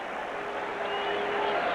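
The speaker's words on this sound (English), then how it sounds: "the crowd, mocking the team a little bit, applauds" Football stadium crowd at a 1986 Eagles at Cardinals game applauding after a first down, a steady, distant wash of clapping and crowd noise with a faint tone running through it.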